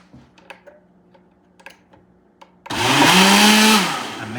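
A blender churns coquito mixed with Palo Viejo rum, a loud close motor roar that kicks in suddenly after a few light taps and clicks, its pitch wavering as it runs.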